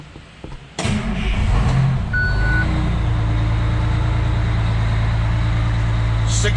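An old Detroit diesel engine in a fire truck cranks and catches, then settles into a loud, steady, rumbling idle that runs on close by for several seconds.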